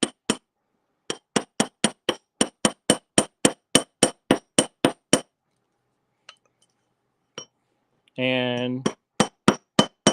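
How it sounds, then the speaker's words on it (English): A riveting hammer strikes a rivet on handmade jewelry links in a series of sharp, close metallic taps, steady and rhythmic, with a brief pause, a short voiced sound, then more taps. "get that riveting hammer"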